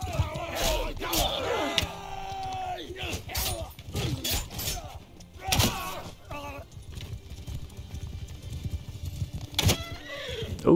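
Horse neighing in the medieval battle game Mount and Blade 2 Bannerlord, whinnies rising amid clashing weapons, shattering impacts and crowd noise of a fight, heard in bursts over several seconds.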